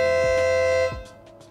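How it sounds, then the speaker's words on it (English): A loud, steady air horn blast on a Mazda Miata holds for under a second, then cuts off, leaving faint mechanical clicks and a quieter hum. "That's definitely an air horn."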